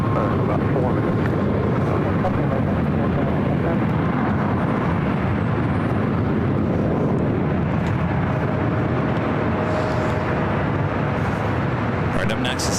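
Lufthansa Boeing 747-8 at LAX, a constant loud roar of jet engines with wind buffeting the microphone throughout, no break in the noise.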